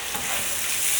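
Tomato sauce stirred in a hot frying pan, a close, continuous sizzle with the soft scrape of the spoon, building slightly toward the end, with no voices.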